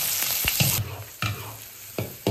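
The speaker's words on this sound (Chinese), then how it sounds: "好香啊，这个五花肉煎出来" Pork belly sizzles as it pan-fries, a bright hiss fading and swelling with several sharp stirring clacks spaced through the clip, close and moderately loud without talking.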